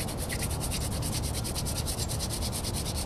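A wooden drill spins against a board in a friction fire attempt for bushcraft, making a steady rhythmic rubbing, scraping sound at low to moderate level with no talking.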